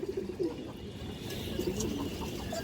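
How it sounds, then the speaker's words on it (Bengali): A khaki female pigeon coos softly and low, with a few brief coo phrases over a steady background hum and no talking. "মাশাআল্লাহ অনেক সুন্দর একটা খাকি মাদি কবুতর, একবার সুপার কোয়ালিটি।"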